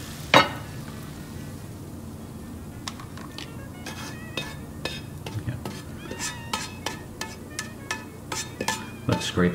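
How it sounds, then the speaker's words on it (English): Spaghetti and garlic scraped out of a frying pan with a utensil after the heat is off, a run of light metallic clinks and scrapes that grows busier toward the end, with a faint sizzle underneath. "Scrape out all the spaghetti and garlic from that pan"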